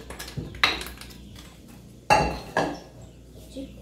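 Non-stick cooking pan handled in a home kitchen, a few sharp metallic clanks and knocks with short scraping, close and distinct, spaced irregularly over quiet room tone without talk.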